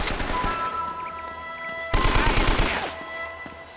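Rapid bursts of video-game gunfire in Uncharted 1 (Nathan Drake Collection), loud and close, with sustained automatic fire that swells into a heavier barrage midway.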